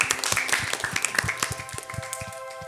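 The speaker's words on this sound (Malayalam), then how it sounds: "നിങ്ങൾക്കെല്ലാവർക്കും ഈ സ്വർഗത്തിൻ്റെ മാലാഖമാരുടെ വക ഒരു ബിഗ് ക്ലാപ്പ്" A group of children clapping together in a loose, uneven burst of applause, close and lively, with background music underneath.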